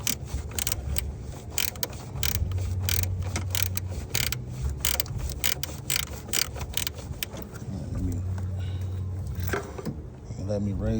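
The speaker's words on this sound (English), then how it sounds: "I had to go get a straighter ratchet wrench." Ratchet wrench clicking on motor mount bolts of a 2017 Nissan Altima 2.5 L four-cylinder, a close rapid series of metallic ratcheting strokes in bursts, with someone talking over it and some low engine-bay clatter.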